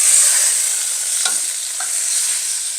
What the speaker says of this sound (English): All we're doing is searing and browning the outside super quick.